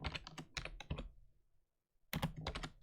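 Quick clicking keystrokes on a computer keyboard while writing a letter in LibreOffice, a brisk run of taps, a pause of about a second, then another run, close and clear.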